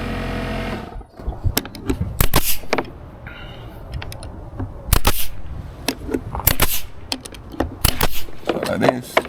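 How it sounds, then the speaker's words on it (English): A staple gun fires repeatedly into wooden backdrop brackets, sharp close snaps in an irregular series with handling clatter between shots. "So we're gonna staple it here."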